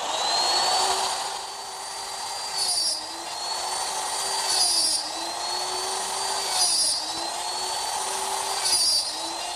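A router cuts half-inch blind dovetails in pine guided by a dovetail jig: a steady high-pitched whine with a loud, continuous tone, dipping slightly and rising again as each pass is made, close by.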